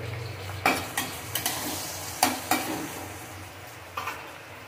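Blanched peas, carrots and beans stir-frying in a wok under a soft background sizzle, punctuated by several sharp scraping clacks of a spatula against the pan in irregular bursts.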